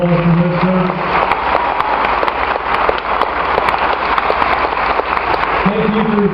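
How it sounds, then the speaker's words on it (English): Graduation crowd at Fort Benning applauds two Vietnam veterans standing to be honored, a dense, steady wash of clapping filling the whole stretch, with voices rising briefly beneath it near the start and end. "Give them a round of applause for their service."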